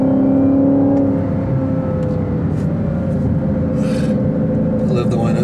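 A Dodge Charger SRT Hellcat cruises on open road, its supercharger giving a steady whine over engine rumble and road noise, with brief faint knocks and rustles later on.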